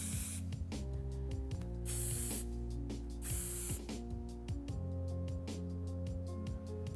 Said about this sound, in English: just spraying it through the top.